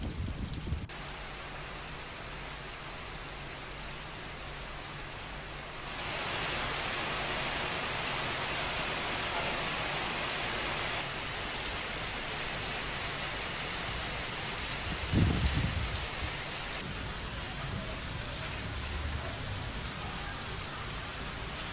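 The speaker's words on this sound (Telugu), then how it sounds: "తమిళనాడులోని నాగపట్నంలోనూ భారీ వర్షం కురిసింది" Heavy rain pouring steadily in Nagapattinam, Tamil Nadu, a dense roar of drops that grows louder partway through, with a low rumble briefly rising near the end.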